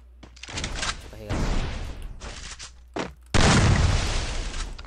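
Shotgun blasts in a video game, heavy booming shots with sharp onsets and decaying tails, several in sequence, one loud and close near the end.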